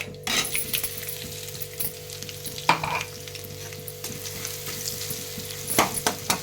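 Garlic chili powder frying in a pan makes a continuous sizzle, with a low steady hum underneath and a few sharp spoon scrapes and clinks near the start and toward the end.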